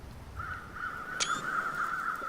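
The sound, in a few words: crows cawing in the video game The Long Dark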